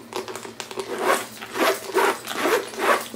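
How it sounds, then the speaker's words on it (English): Zipper pulled along a leather crossbody bag, several quick rasping zips in a row, close and clear with no voices. "I'm gonna go ahead and start by giving it a zipper test"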